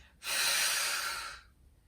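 A single long, forceful exhale through the mouth during a Pilates mat workout, a loud breathy rush lasting over a second close to the microphone, then fading out, with no talking.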